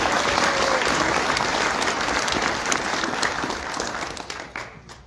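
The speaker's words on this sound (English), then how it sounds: "let's give all these a round of applause and appreciate them" Sustained applause from a crowd at a sled dog race awards banquet, steady and dense throughout before thinning out near the end, with faint voices mixed in.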